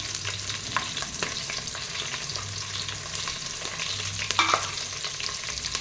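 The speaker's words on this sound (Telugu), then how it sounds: "ఇది కొంచెం రెడ్ కలర్ వచ్చేదాకా వేయించుకోవాలి" Onions fry in a pan with green chillies and spices, a steady close sizzle that stays even throughout while a utensil scrapes and stirs now and then.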